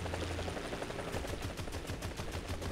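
An AH-1Z Viper helicopter in War Thunder fires grenades in a quick, evenly spaced string of punchy thumps over a constant rotor and engine drone, with no talking.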